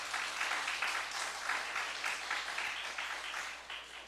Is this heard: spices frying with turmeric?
no